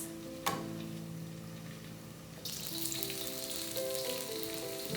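Carrots fry in a little grapeseed oil in a pan with a close, steady sizzle that jumps louder partway through, over a faint background hum.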